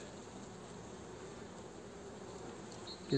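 A steady, continuous buzzing drone of many winter honey bees in March, fairly faint and unchanging throughout, with no voices.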